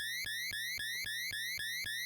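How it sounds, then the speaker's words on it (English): An electronic alarm sounds inside a building with rapid, repeating rising beeps in a regular pulsing pattern, moderately loud and steady, with nothing else heard around it. "We have a history of alarms in this building."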